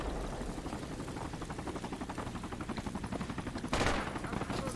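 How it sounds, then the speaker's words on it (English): Rapid automatic gunfire in the military shooter Project Reality, set in a downtown area, with continuous rattling bursts of shots throughout, some distant and some nearer, and a louder blast near the end. "I hear him shooting from west"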